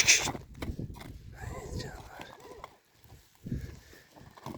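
A young foal is led along, its hooves clopping in uneven, close steps that pause and resume, while people speak quietly nearby.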